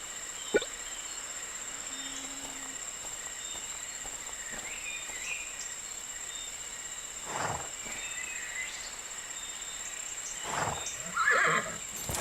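Horse in the riding video game My Little Riding Champion, heard as a few distinct snorts and whinny-like calls over a steady electronic background hum.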